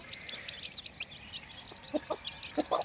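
Hens and chicks nearby, with quick, high-pitched peeps repeating in a rapid series and a few lower clucks.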